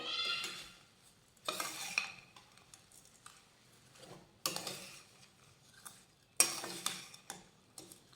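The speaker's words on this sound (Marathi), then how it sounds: "कैरीचा किस आणि गूळ व्यवस्थित मिक्स करून घेतला" Grated raw mango being stirred together with jaggery in a pot for gulamba, soft, faint bursts of spoon scraping and stirring separated by quiet pauses, with a light clink now and then and no talk.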